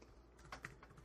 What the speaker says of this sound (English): That's realistic typing